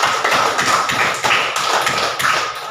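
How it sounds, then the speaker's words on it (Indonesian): Classroom applause at an elementary school, a dense, steady patter of many small hands clapping together for a couple of seconds, fairly close and filling the room with no talking over it. "Tepuk tangan buat Putri dan Didan yang sudah menanya."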